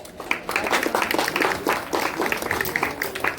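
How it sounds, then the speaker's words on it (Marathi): A crowd claps steadily at a village Shiv Jayanti celebration, dense overlapping applause at moderate distance, with some voices mixed in. "कृपया सर्वांनी जोरदार टाळ्या वाजवायच्या आहेत"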